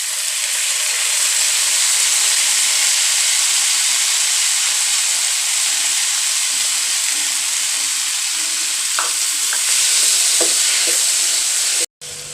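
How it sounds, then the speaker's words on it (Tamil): Finely chopped tomatoes, about five medium ones, sautéing in a hot pan for a corn paneer cheese masala, a loud steady sizzle and hiss with a few stirring clinks near the end. "இப்போ தக்காளி நல்லா வதங்கிடுச்சு."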